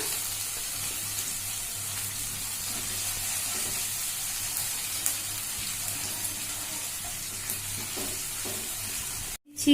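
Paneer masala with cashew paste cooks in a pan with a long, even sizzle and soft intermittent stirring, ending in a brief cut and a louder knock.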